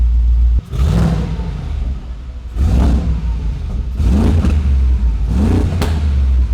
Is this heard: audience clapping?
no